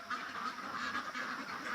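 Penned-up ducks quack in a continuous, overlapping chorus at moderate distance, steady and unbroken for the whole stretch.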